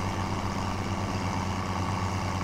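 A Case 1455 tractor engine in Farming Simulator 2017 drones steadily at idle-to-moderate revs, a continuous low rumble with no other sounds.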